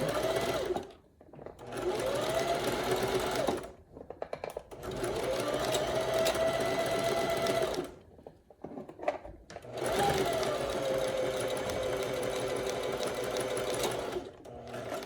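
A serger sewing machine stitches a one-piece garment in several long bursts of steady, fast whirring with brief pauses between runs, close and loud with no talking.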